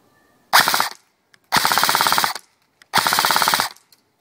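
An Ignite Black Ops M4 Viper blaster fires three rapid, rattling bursts, each close and sharp, separated by short silences with small clicks between them.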